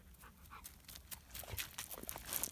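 A dog pants rapidly and steadily up close on a hiking trail in the Jura mountains, with soft scuffling sounds in the background.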